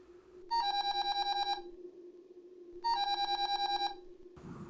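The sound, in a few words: phone call ringing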